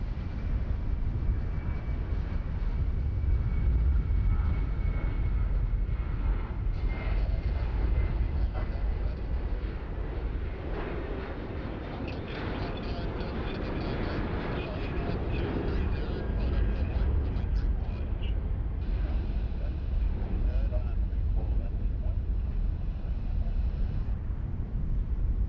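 At Sydney Airport, a Qantas passenger jet bound for Cairns gives off a steady, distant roar. Broadband engine rumble carries through the whole stretch, blended with wind noise on the microphone.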